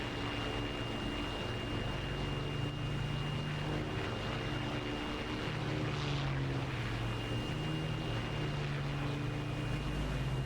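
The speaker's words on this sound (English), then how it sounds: "Landing a wooden aircraft at around 120 miles an hour." A wooden de Havilland Mosquito FB VI propeller aircraft in the DCS combat flight simulator, coming in to land at around 120 mph with no flaps and no gear, its steady engine drone and whine running loud and continuous throughout.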